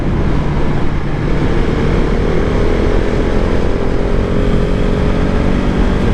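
Steady, loud engine drone and wind roar from a new motorcycle being ridden, a continuous dense rumble with no pauses and no voices.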